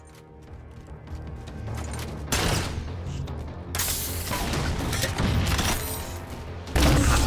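Scattershot shotgun in Halo 4 fires in heavy bursts amid a loud firefight: booming blasts with crashing, shattering impacts arrive in surges of roughly a second or more, separated by brief lulls, close and dense throughout.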